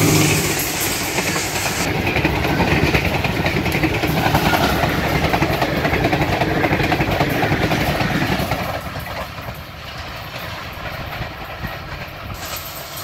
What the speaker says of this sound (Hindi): बहुत स्पीड में ट्रेन यहाँ से गुजरने वाली है जी 7 अप तेज़गाम